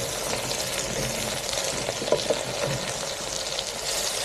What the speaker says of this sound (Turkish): Biraz karıştırıyoruz.